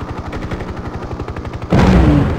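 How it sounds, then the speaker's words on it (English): Mi-24 Hind helicopter gun firing in the 1998 Hind game on a Kazakhstan campaign mission: a fast, even rattle of rapid automatic shots, close and loud, cut off by a louder burst of noise near the end. "Mi-24 Hind. Firing now."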